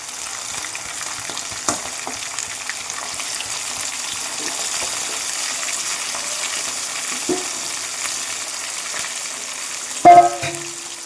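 Large pieces of chicken liver for a spicy curry fry in a pan, a soft continuous sizzle with occasional scrapes and knocks of stirring, ending in a brief louder clatter of the spoon against the pan.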